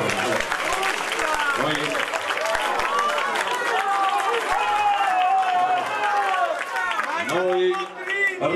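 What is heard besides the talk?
audience applause at a political rally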